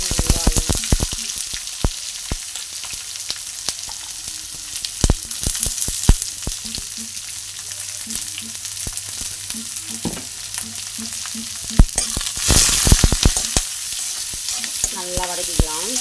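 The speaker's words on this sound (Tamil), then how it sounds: "வெங்காயம் நல்லா வதக்கட்டும்." Chopped onions with curry leaves sauté in a hot pan for cauliflower sambar, a loud continuous sizzle broken by frequent scraping stirs and small spatters, heard close with no talking.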